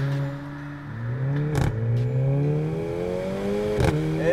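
A 2017 Mercedes CLA45 AMG four-cylinder car accelerates hard, its engine note climbing in pitch through the gears with two quick shift breaks, loud and close from inside.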